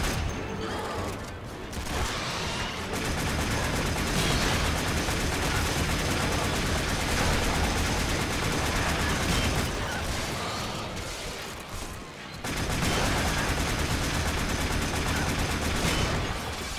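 Sustained, rapid gunfire in the Warframe video game, with dense overlapping bursts that run almost continuously and pause only briefly twice.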